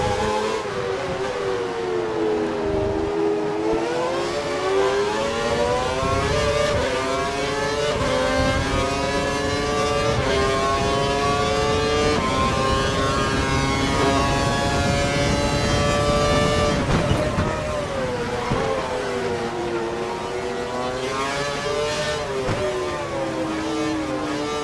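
A high-pitched Formula 1 car engine in the video game F1 2012 screams continuously, revs rising and falling through gear changes, loud and close with no talking.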